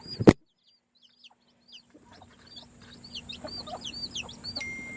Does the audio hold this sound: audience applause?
no